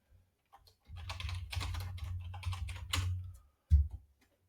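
Fingers type a name on a computer keyboard in a quick, close burst of soft clicking keystrokes, then pause before a final sharper key tap, with no talking.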